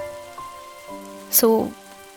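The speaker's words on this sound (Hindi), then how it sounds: "अब मैं तो चली बारिश का लुत्फ़ उठाने" Monsoon rain falls steadily with a soft patter, layered under sustained musical tones, and a brief louder burst of splashing arrives near the end.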